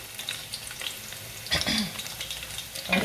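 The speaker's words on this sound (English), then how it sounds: "and give it a quick stir." Onions fry in palm oil in a pot with a close, crackling sizzle, and a burst of louder stirring and scraping comes about halfway through.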